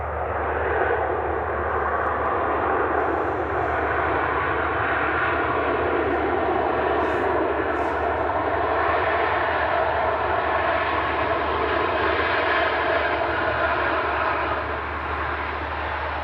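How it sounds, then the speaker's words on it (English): A Ryanair Boeing 737-800 jet roars steadily and loudly throughout, a broad sustained engine rumble and whine that holds at near-constant strength, with no talking. "Just to now, Ryanair 737-800, time Ryanair 1495 around the house."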